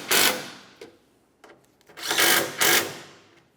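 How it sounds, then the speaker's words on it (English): Several short bursts of a ratchet or power driver tightening two 10mm bolts on a 1994-1997 Honda Accord headlamp assembly, loud and close, separated by quieter clicks and handling. "we'll tighten our two 10mm headed bolts here"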